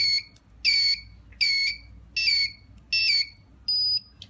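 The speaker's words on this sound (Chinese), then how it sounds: "这个灯会一直亮，蜂鸣器会一直响" A photoelectric smoke alarm circuit's buzzer sounds a loud, shrill beep five times in a steady pulsing rhythm, each beep about half a second long, then ends on a thinner steady tone, with no voices.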